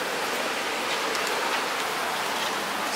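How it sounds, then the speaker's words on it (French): Steady rain falls continuously, a dense even hiss of drops on surfaces, fairly close and alone without voices. "en espérant peut-être qu'il mouille un peu moins arrivé là-bas"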